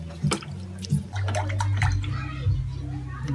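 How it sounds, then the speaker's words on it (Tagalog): Water is poured and splashed to rinse a freshly scrubbed engine, a close, continuous gushing and spattering that follows a few short clanks and knocks. "Tapos ngayon, manlawan mo siya ng tubig agad."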